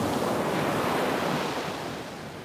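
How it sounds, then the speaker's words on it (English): Ocean surf at sunrise washes in as a continuous broad roar with some wind, loud and steady, easing slightly toward the end. "Nothing like watching a sunrise, let alone watching a sunrise and listening to waves."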